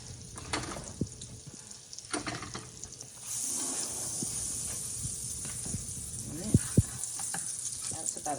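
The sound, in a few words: butter melting and sizzling in a pan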